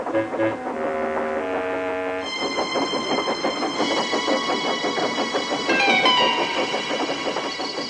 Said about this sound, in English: Then Thomas set off into the misty night.